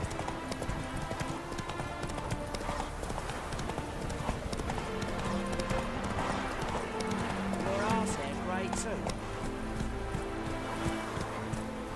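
Roach the horse galloping in The Witcher 3: Wild Hunt, rapid rhythmic hoofbeats running steadily throughout, layered with game music and ambient sound, while a voice speaks briefly over it.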